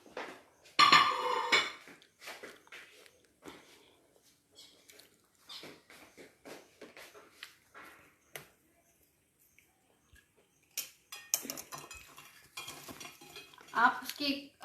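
Crispy fried okra (bhindi popcorn) is crunched up close in a kitchen. Sharp, irregular crackling bites come in bursts, with quieter stretches and a few light clinks between them.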